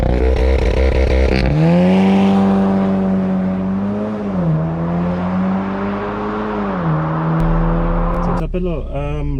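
A 2020 VW Golf 7 R in its comfort driving setting pulls along the road, its engine holding a steady, loud drone with harmonics that slide gently up and down as revs shift and ending in a short burst of higher engine tones.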